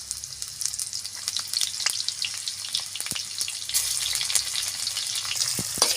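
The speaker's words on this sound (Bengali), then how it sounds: "সুন্দর করে পেঁয়াজ রসুন একটু হালকা করে ভাজা ভাজা করে নিব" Chopped onion and garlic fry in hot oil for a fish and potato curry, giving a steady close sizzle with scattered crackles and pops that grows slightly louder midway, with no talking.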